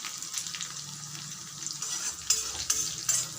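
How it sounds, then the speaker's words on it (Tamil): Crushed peeled garlic and a sprig of curry leaves sauté in hot oil in a pan, making a close, steady sizzle with a few louder bursts of spattering near the end. "இது கொஞ்சம் நல்லா வதங்கட்டும்."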